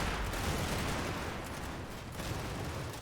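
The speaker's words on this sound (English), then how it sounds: "Another one of my mortars is commencing a fire mission" Mortar barrage in the WWII tactics game Combat Mission: Normandy, a dense continuous rumble of distant blasts and rattling fire that holds steady and loud throughout with no voices.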